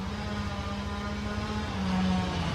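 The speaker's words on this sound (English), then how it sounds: "Apparently he's got forestry noises going on back there." Forestry machinery working on a Farming Simulator 2017 map, a steady low mechanical engine drone with a sustained hum that swells slightly louder toward the end, heard from some distance with no talking.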